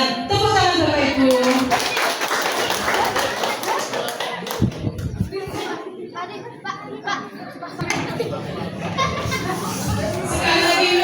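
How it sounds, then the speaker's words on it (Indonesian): Parents and teachers clap for a children's drama performance at an Indonesian elementary school graduation send-off, with the applause mixed with children chattering and voices over it, rising and falling across the clip. "Tepuk tangan Bapak Ibu."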